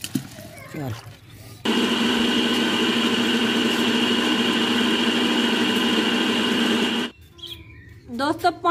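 Electric churning machine whirring steadily as it churns lassi into butter in a Punjabi village home, a loud constant hum that starts abruptly and cuts off after about five seconds, with brief chirpy sounds before and after.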